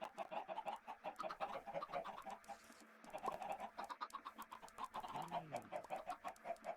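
A crowd of chickens in a video game clucks and squawks continuously in a dense, overlapping chorus, fairly faint, with no talking.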